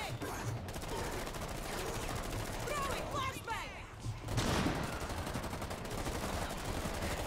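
Rainbow Six Siege Outbreak gameplay carries rapid, continuous gunfire in dense volleys, with a short lull partway through. A player's voice is heard now and then beneath the shots.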